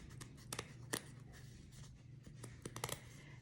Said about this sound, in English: I'm going to cut around the shape